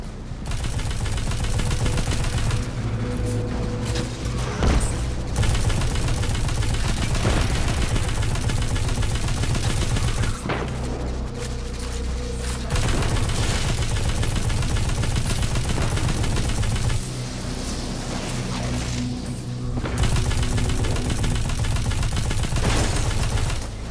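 Sustained gunfire from Destiny 2 as Vex constructs are shot: dense, loud rapid bursts of automatic fire with brief pauses between volleys, continuing almost the whole time with no talk.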